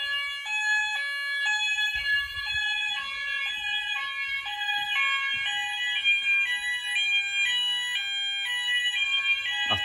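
An Apollo XP95 fire alarm sounder sounds during a system test, giving a steady repeating two-tone alarm that steps in a regular rhythm and stays loud and continuous throughout.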